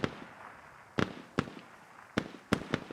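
Gunfire from enemies on a hilltop in the video game Squad comes through as sharp, separate cracks, about six or seven irregular shots over a few seconds, punchy and fairly close against quiet background.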